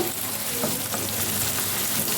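Finely chopped ginger and garlic fry in a hot pan with a steady, close sizzle and crackle that runs throughout, with no voices.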